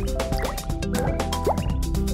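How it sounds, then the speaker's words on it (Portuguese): Water runs from an opened kitchen tap into a held glass, a steady near rush with dripping, plopping and gurgling filling sounds, and no talking. "Segura o copo e abre a torneira."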